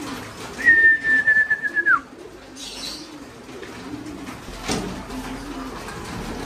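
Pigeons in a backyard loft during rainy weather give a clear whistled call and soft, low cooing notes that come and go at close range, with light rustling and a brief knock partway through.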